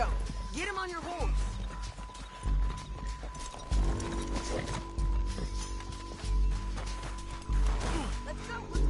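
Horse hooves clip-clop in Red Dead Redemption 2 during a hurried escape, steady galloping thuds under a low background hum, with people talking over the hoofbeats throughout.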